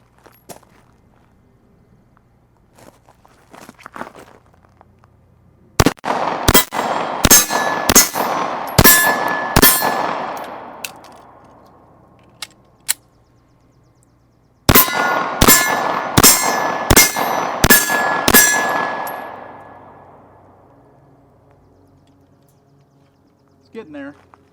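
FN FNS-9C compact 9mm pistol fired on the move in two rapid strings of about six loud shots each, sharp cracks with ringing steel-target clangs and a few footsteps between strings.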